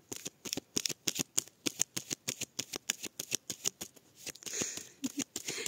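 A tarot card deck being cut and shuffled at close range, a rapid run of crisp riffling flicks and slaps in quick rhythm, ending in a longer rustling shuffle.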